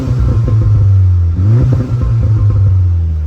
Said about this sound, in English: So let's see if we can hear any burbles.